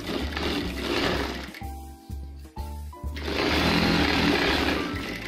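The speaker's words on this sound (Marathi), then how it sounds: "त्याप्रमाणे दुसरी बाजूही स्टिच करून घेणे." A sewing machine stitches the seam of a night gown in loud close bursts of rapid mechanical whirring, broken by short pauses and clicks before running steadily again; no talking.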